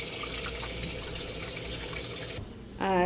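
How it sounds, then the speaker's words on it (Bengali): Tap water runs steadily into a small pot as the soaking water for meat is changed, a close, continuous splashing stream that cuts off shortly before the end. "তো পানি চেঞ্জ করে দিতেছি।"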